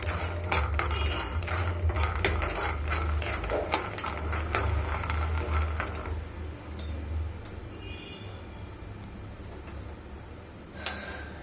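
Peanuts being roasted in a pan rattle and clink sharply as they're stirred, a quick run of scraping taps that thins into scattered, fainter clicks.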